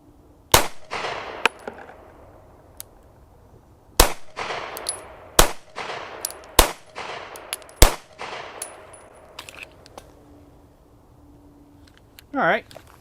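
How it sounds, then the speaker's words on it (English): A Taurus GX4 Toro 9mm pistol fires Blazer Brass 115-grain FMJ rounds outdoors: a string of loud, sharp, close shots at uneven spacing, each trailed by a short echo, with metallic clinks between them and a brief voice at the end. "Up first is Blazer Brass 9mm 115 grain FMJ. 5 rounds."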